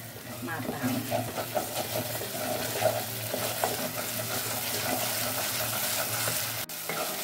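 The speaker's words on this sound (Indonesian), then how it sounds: "Kita tumis lagi sampai matang." Cinnamon, star anise, cloves and cardamom sauté in hot oil with a steady sizzle, while a utensil stirs through them in soft, repeated scrapes.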